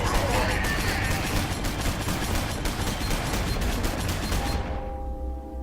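An Ork quad-link weapon in Warhammer 40k Sanctus Reach lets loose a loud, sustained stream of rapid shots for several seconds, then cuts off and leaves a brief ringing tail.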